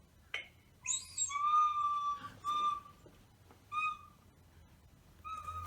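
A recorder plays a few short whistling notes, breathy and fairly clear, with brief pauses between phrases and no voices over it.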